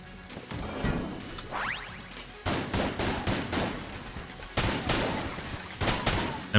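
Rapid bursts of gunfire and impacts from the video game Enter the Gungeon, dense repeated shots in clustered volleys with whooshing effects between them.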